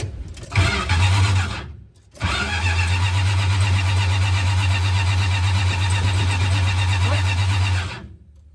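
A van engine cranks and catches, stumbles briefly, then restarts into a loud, steady rumbling idle close by inside the van, with the engine cover off, before cutting off near the end.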